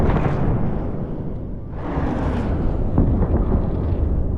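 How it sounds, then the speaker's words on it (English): Stray rocket from a struck launcher system exploding and shattering its own support vehicle, a loud rolling blast and rushing roar that swells again midway, heard alone without speech. "this stray rocket blows its own support vehicle to splinters"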